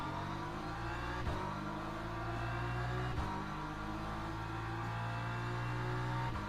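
Race cars drive at Monza in a racing video game, a continuous high engine drone with shifting revs and a few sharp transient thumps, steady and fairly loud with no talking.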